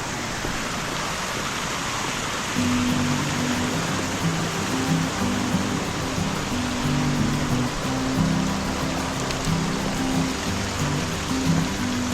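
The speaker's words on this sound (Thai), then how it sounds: "เสียงน้ำตกค่อนข้างดัง" Loud, steady rush of a tiered forest waterfall fills the whole clip, close by, with a low hum running underneath from a few seconds in.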